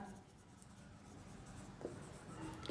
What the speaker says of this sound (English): So you write down here